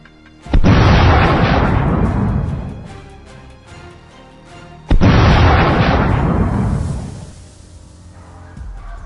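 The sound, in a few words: gunshots fired at wild boar in snow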